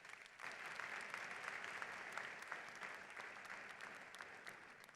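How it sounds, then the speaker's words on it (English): Steady applause from an audience of families and honor students at a university Founders' Day and honors convocation, sustained with dense clapping across the whole stretch at moderate loudness, no talk over it. "Let's give them a round of applause."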